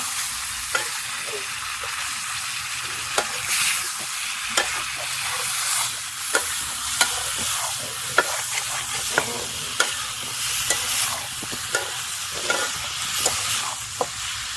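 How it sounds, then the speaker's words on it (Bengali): Spice masala being stir-fried in a pan for a tilapia fish curry, a steady oily sizzle broken by frequent sharp scrapes and taps of a spoon against the metal, close and continuous, with no talking. "সুন্দরভাবে মশলাটা কষিয়ে নিয়েছি।"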